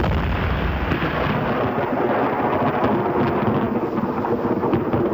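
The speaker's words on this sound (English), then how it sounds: "What an explosion!" A deep, rumbling dynamite blast at an open-pit mine in Utah roars continuously, heavy low-end boom rolling on like distant thunder without letup.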